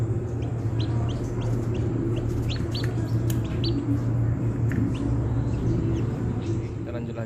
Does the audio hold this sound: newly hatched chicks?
yes